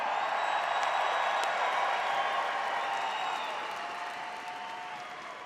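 A crowd cheering and applauding at a Bassmaster Classic bass fishing weigh-in show, a dense, steady wash of clapping and whoops that slowly fades toward the end.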